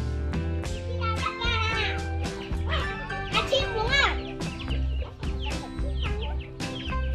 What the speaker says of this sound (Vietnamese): Gà. Gà kìa con. Chú gà trống kìa.